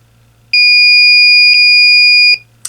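A single loud, piercing electronic beep from an MSTest Pro cable certification tester at the end of a certification test holds steady for nearly two seconds, then cuts off, followed by a short click.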